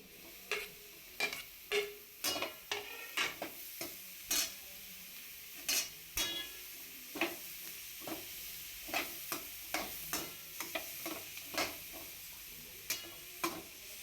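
Paneer stirred into frying pulao masala with garam masala in a pan: a steady run of about twenty sharp spoon scrapes and clanks, roughly one every half second to second, over a soft continuous sizzle, close and fairly quiet.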